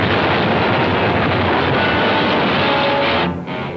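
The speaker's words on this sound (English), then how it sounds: "Explosion." A loud, sustained explosion roars from a 1960s undersea adventure TV drama, a dense, rumbling blast that holds at full strength for several seconds before briefly dipping near the end.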